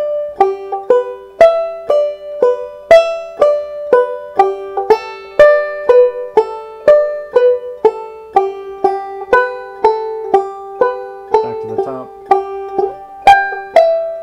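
Slow solo line tracing the A part of the tune, played as a steady run of clearly plucked single notes with a banjo-like attack and quick decay, alone and fairly close.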